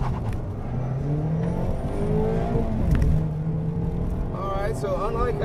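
A 2019 Mazda MX-5 Miata pulls hard on a track, its engine note climbing steadily with rising harmonic whine over sustained loud road and exhaust roar, with a voice talking over it.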